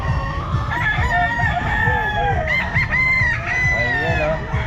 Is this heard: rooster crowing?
yes